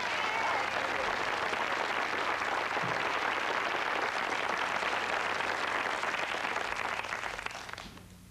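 An audience at a live concert applauds for a bass player, dense sustained clapping from a crowd that fades out at the end.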